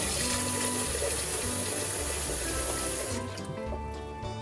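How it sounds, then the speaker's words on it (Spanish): Water pours steadily from a tap into a cooking pot being half filled for boiling, a continuous close rushing stream that thins and quiets near the end, with no talk. "En una cazuela ponemos agua."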